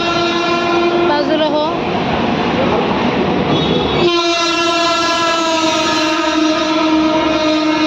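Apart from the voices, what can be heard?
train passing with horn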